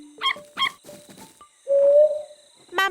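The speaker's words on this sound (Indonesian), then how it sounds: "Suara pungguk coklat berisik." A brown hawk-owl hoots in a cartoon forest. Several short hooting calls and soft chatter come first, then a loud, sustained hoot stands out, alone and close.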